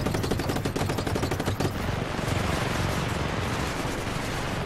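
Gunfire in the video game Just Cause 3, rapid automatic bursts dense and loud for the first second and a half, then a continuous roaring wash of explosive noise filling the rest.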